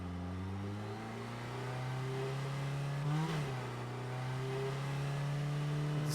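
A Toyota Hilux engine drones and revs while driving in a video game, a steady close hum that climbs briefly in pitch before settling, with no voices.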